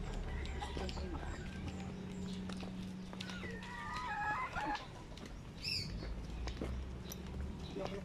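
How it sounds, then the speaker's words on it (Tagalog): Native kampong chickens and fighting chickens cluck at a yard in Cebu City, Philippines, with a rooster's crow rising briefly, under people talking nearby and some background noise. "And then these are the fighting chickens."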